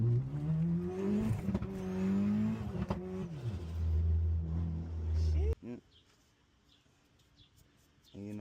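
A turbocharged Honda K24Z3 car is driven hard, its engine climbing through loud rising revs before cutting off abruptly, followed by quieter rumbling and a brief return of engine noise.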